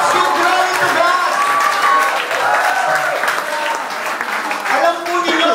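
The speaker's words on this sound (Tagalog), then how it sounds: "Parang mahina na yung palakpak po ninyo" A church congregation applauds in a sustained wash of clapping, with a voice speaking over the crowd.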